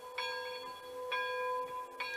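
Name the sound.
model locomotive bell ringing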